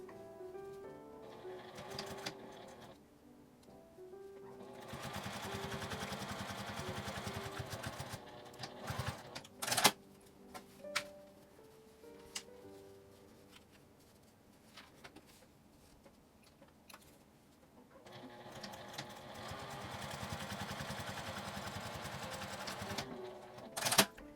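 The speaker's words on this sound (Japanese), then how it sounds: "角から上に向かってミシンをかけます。" A sewing machine runs stitching fabric for a small flap-style mini pouch, with a steady whirring burst at the start and another near the end, separated by a quieter stretch of light ticking and clicks.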